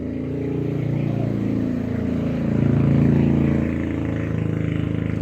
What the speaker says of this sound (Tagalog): ingay ng motorsiklo na dumaan